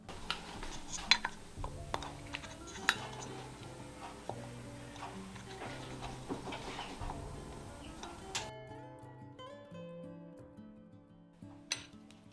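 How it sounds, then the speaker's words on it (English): Metal lids and screw bands set onto glass canning jars of strawberry preserves, producing light scattered clinks, ticks and soft scraping, quiet and close, with no talking. "Making sure our lid is well centered before adding on our band and tightening to fingertip tight"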